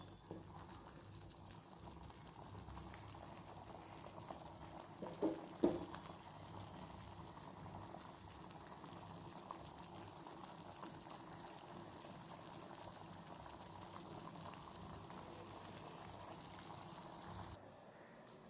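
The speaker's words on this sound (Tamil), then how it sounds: "அப்படியே கொதிக்க வேண்டியதுதான்." A pot of masala poori gravy simmers quietly with a constant low bubbling hiss throughout, broken by a couple of soft clinks, and no one speaks.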